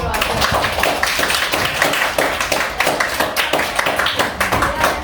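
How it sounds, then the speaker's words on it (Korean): A middle school class clapping together during a physical education lesson, rapid bright hand claps in a rough ongoing patter with voices mixed in. "우선 박수 한번 치고 시작할까요?"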